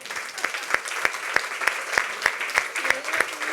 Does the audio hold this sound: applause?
yes